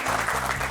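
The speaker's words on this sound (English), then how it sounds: "Give a round of applause" Audience applause at a Harley-Davidson dealership event, a dense steady wash of clapping filling the whole short moment without a break.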